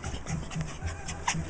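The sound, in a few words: dog panting and whimpering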